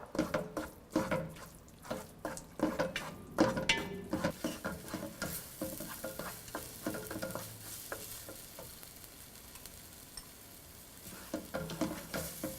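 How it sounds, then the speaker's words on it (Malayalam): Tomato paste for chicken tikka masala being sautéed in a pan, with a spoon stirring and scraping in quick uneven strokes over a soft, continuous sizzle, close and moderately loud. "ഇതിലോട്ട് നമ്മൾ എടുത്തു വച്ചിരിക്കുന്ന ടൊമാറ്റോ പേസ്റ്റ് ആഡ് ചെയ്ത് നന്നായിട്ട് വഴറ്റുക"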